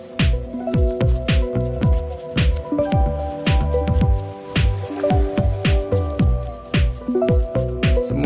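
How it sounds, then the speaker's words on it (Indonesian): Wet squishing and wiping strokes as soapy water is spread over the leaves of a coconut bonsai, a steady rhythm of close, repeated squelches with drippy splashes and no talk. "semua kita sapu dengan air sabun."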